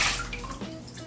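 Water sloshes and splashes in a short burst as a ferret is bathed, close and fairly loud, tapering off into softer trickles and drips without any talking.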